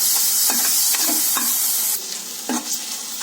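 Chopped tomato frying in a pan with garlic and ginger, a steady close sizzle with a spoon scraping and stirring at regular intervals.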